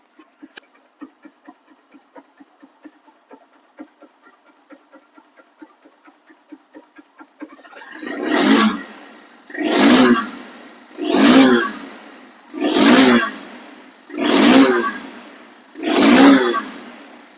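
A Honda CB Hornet motorcycle with double disc brakes ticks over at a quick, even idle, then revs hard six times in a regular rhythm, each loud, close roar rising and falling back.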